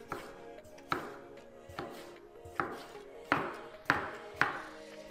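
A knife chops a yellow tomato on a cutting board in a kitchen, sharp distinct knocks at a slow steady pace, about seven strikes, close and clear with no talk.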